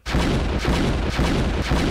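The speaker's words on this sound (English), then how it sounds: "Explosion time." A loud, continuous rumbling explosion effect played during a comedy quiz game show, with dense booms and crackling blasts rolling on for about two seconds and no talk over it.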